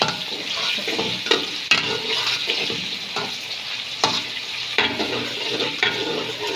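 Onions frying in a pan as they cook toward light brown for tehari, a steady close sizzle with periodic stirring scrapes and bursts, no voices.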